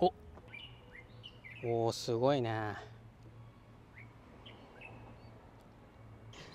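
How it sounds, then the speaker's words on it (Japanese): A few unfamiliar bird calls chirp and warble in the background at a botanical garden in Okinawa, brief and scattered, while a person speaks briefly over a steady low hum. "聞いたことない鳥の鳴き声がさっきからすごい聞こえてくるんですよ。"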